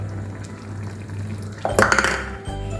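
Spoon stirring pumpkin and cowpea olan curry in a pot with coconut milk, a short cluster of clinks and wet scrapes after a quiet background hum, close by.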